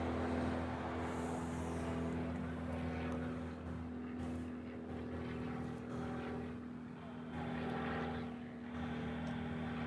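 A biplane flying near Honolulu's airport on a morning flight, its propeller engine giving a steady, loud droning hum with a strong low tone that holds throughout, swelling and easing slightly as it passes.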